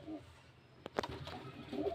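Pigeons coo softly nearby, a few low, throaty calls rising over quiet background noise.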